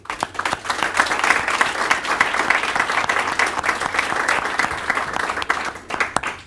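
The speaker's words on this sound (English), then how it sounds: "If we could give them a round of applause." A county board of commissioners meeting fills with steady applause from the room, dense clapping that holds for several seconds and thins out toward the end.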